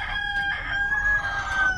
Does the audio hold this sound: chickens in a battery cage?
yes